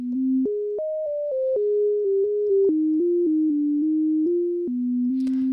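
A spooky theremin-style synth patch built in Ableton Live's Wavetable synth plays one clear, loud monophonic note at a time in a slow, wavering melody of stepped pitches, with a soft noisy burst at the very end and no voices.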